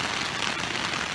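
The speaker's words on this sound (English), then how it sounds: "It's like pouring, like you couldn't get any harder of a rain." Heavy rain pouring in an extreme storm onto a poncho shelter, a dense, loud, continuous hiss of broadband patter with no breaks.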